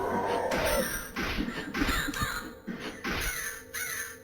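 Crow caws from a horror video game demo, a run of repeated harsh, raspy calls in an irregular rhythm over a noisy game backdrop, loud and close.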